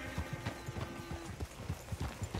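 Hooves of a horse-drawn coach in a video game, a steady rhythmic clip-clop of several hoofbeats per second at moderate distance, fairly quiet, with a faint tonal hum beneath.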